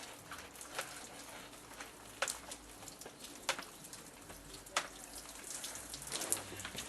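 A water-fed pole sprays and rinses a window with a soft continuous patter, punctuated by a few sharper splashes and drips, fairly quiet and without voices.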